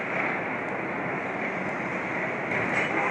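A steady, broadband roar of a train rumbling past on a subway system built in 1904, constant and loud throughout with no voices.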